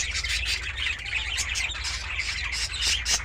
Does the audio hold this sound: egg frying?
no